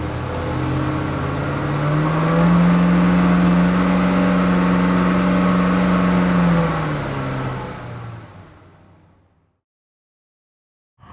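A Maserati engine idling on a driveway is revved to slightly higher rpm, a loud steady drone that climbs and holds for several seconds, then drops back and fades away to silence.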